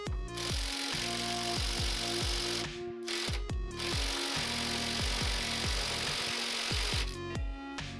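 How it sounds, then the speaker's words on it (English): Removing the flywheel nut on a Puch Maxi moped with a power tool: a steady, loud mechanical whir with rapid rattling impacts runs throughout, briefly cutting out twice, close up and without speech. "Now remove the flywheel nut."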